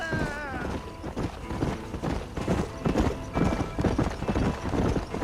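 Horse hooves clip-clopping at a steady gait in the western video game Red Dead Redemption, a loud, continuous rhythmic clatter with a brief whinny near the start.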